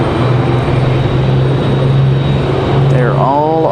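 An airplane on final approach at Raleigh-Durham International produces a steady, rumbling engine drone that swells as it nears, with a voice talking over it.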